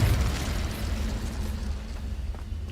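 Confringo fire spell explosion in the Hogwarts Legacy video game, a loud, dense roaring blast that rumbles steadily for a few seconds with no voices over it.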